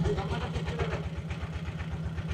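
A boat engine chugs at a rapid, regular beat on the way to Bholaganj in Sylhet, a close, steady low throb with faint voices around it.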